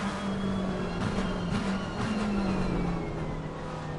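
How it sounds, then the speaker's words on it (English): A McLaren race car in Assetto Corsa Competizione, racing at Donington, downshifts with a steady engine drone that slides lower in pitch through the gear changes, loud and continuous, with no voices. "Beautiful sounds of the McLaren on downshift."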